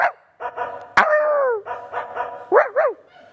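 A dog barks in a series of close, loud barks, including one long drawn-out howl-like bark and a pair of quick rising yips at the end, with no talk.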